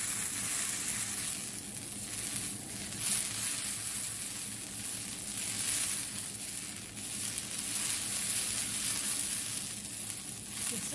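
Food frying in a pan sizzles and hisses steadily for several seconds while it is stirred, soft scraping and crackling spread under the continuous fry noise, with no voices.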